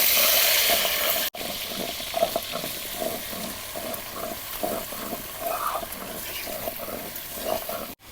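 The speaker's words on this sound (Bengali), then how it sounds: "এখন মাছ ভাজার তেলেই সুজি কচুগুলা হলুদ লবণ দিয়ে ভাজে নিব।" Taro (kochu) frying in mustard oil left over from frying fish, seasoned with turmeric and salt, gives a moderate, steady sizzle with soft stirring noises and a brief break near the start.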